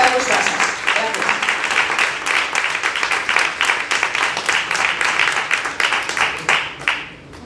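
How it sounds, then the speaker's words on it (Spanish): A library audience at a local reading event applauds two Navarrese writers, sustained dense clapping that fades out at the end, with voices mixed in. "me queda pediros un aplauso para ellos"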